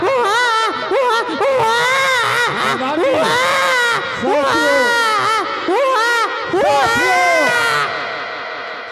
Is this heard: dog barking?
no